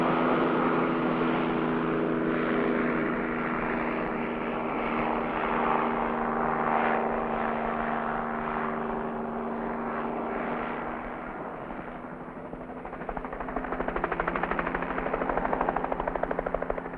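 Steady rotor and engine drone of a helicopter flying over yachts in the 1977-78 Whitbread Round the World Race in the Atlantic, loud and continuous, with a slight dip in level near the end before swelling again.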